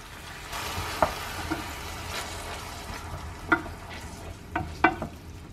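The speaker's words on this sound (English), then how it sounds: "I added about half a cup of tomato sauce, and I'm gonna let that simmer for a few minutes" Tomato sauce simmering in a pan, a soft steady sizzle with a few sharp clinks and scrapes of a utensil against the pan, close and fairly quiet.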